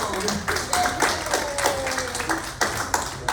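A small audience at a mental health program gives applause, uneven clapping with distinct rhythmic claps standing out, alongside faint voices in the room.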